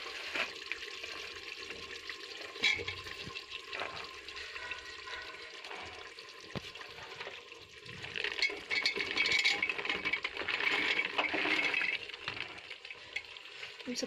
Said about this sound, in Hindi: हमारा मसाला भून चुका है, गाजर, आलू और मटर हम इसमें डाल देंगे।